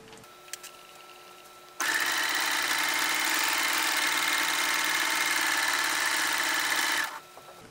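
A sewing machine runs steadily for about five seconds with a loud, even mechanical whir, then stops; quiet before and after.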